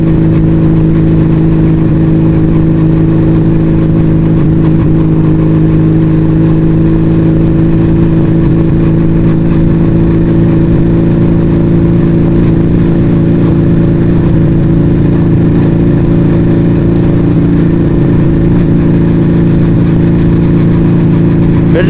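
A two-cylinder two-stroke Yamaha Vega ZR motorcycle cruising at around 40 km/h, its engine a loud, steady droning hum that holds constant for the whole stretch, close up with no talk.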